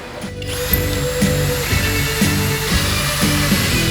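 A drill drives pocket screws into wood in repeated bursts, its motor rising and dropping about once a second, loud and close.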